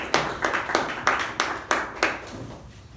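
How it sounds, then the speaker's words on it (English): Hands clap in a slow, evenly spaced series of about nine sharp claps, moderately loud in a quiet room during a Toastmasters club meeting. No other sound is mixed in. "Please give her a round of applause."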